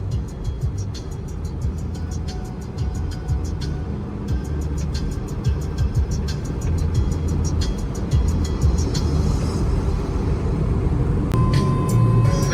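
A car cruises at about 100 km/h on a highway in light rain, with steady road and engine roar from inside the cabin and a repeating faint tick, likely the wipers.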